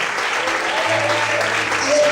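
A church congregation applauds during an evening sermon, a steady wash of clapping at even loudness throughout, with a low organ or keyboard tone sustained underneath.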